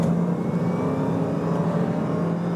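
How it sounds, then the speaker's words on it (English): A 2018 Range Rover L405's 5.0-litre V8 petrol engine drones steadily under acceleration, a moderately loud, even mechanical hum with no talking over it. "I was slightly disappointed with the engine noise on this"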